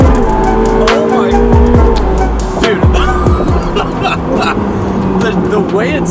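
A turbocharged Ferrari 488 Pista with straight pipes roars loudly, its engine pitch rising and snapping back through several quick dual-clutch gear shifts, with excited voices talking over it.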